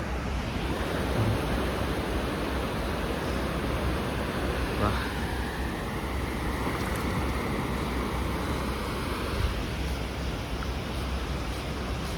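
Ocean waves roll and break steadily at Tannirbhavi beach near Mangalore, a continuous broad surf roar with wind noise and no distinct pauses or voices.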